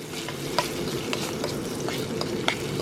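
Ground beef sizzles in olive oil in a pan, a steady close frying hiss with sharp scrapes and taps as a utensil breaks it up and stirs, no talk.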